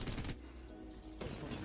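Bursts of rapid automatic fire from the new R9 weapon in Apex Legends season 22: one loud volley opens the moment and a second begins near the end, separated by a quieter gap.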